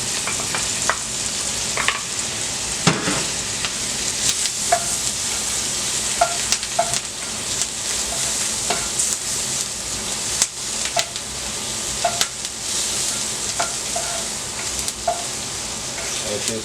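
Mushrooms fry in a hot pan with a steady, close sizzle, punctuated by repeated light clicks and taps of a utensil stirring throughout.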